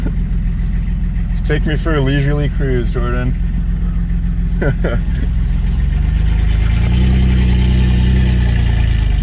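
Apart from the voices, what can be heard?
slow 240 car engine running while driving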